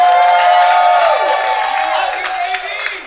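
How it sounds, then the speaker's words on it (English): A live comedy club audience in New York cheers and whoops in a loud, dense burst of crowd noise that holds steady, then eases off slightly toward the end. "we cheer for the one person we think is stoned"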